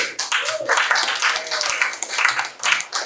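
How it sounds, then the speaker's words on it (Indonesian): Classmates applaud a student in a classroom with scattered, uneven clapping from a small group, close and fairly loud, with some individual claps standing out. "Tepuk tangan buat Alvin."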